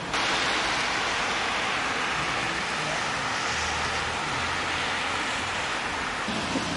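Steady rain hisses continuously, a dense wash of noise with a faint low rumble underneath and no voices.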